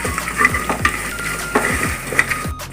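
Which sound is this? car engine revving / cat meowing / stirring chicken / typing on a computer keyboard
stirring chicken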